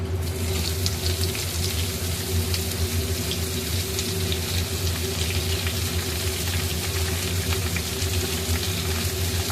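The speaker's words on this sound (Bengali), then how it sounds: "এরপরে দিয়ে দেবো কুচানো পেঁয়াজ।" Chopped onion added to hot oil with fried garlic for an egg curry, giving a loud, dense, continuous hissing sizzle throughout with no talking.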